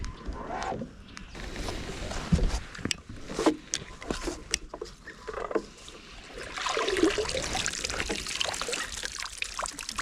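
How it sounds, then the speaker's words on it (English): Wet rustling and sloshing close by, with scattered splashes and little clicks and flicks as shrimp move around in a net of water and thick weed. "sounds like there's a few shrimp in there"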